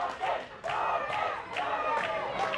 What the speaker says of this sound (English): The crowd is chanting for Dawkins.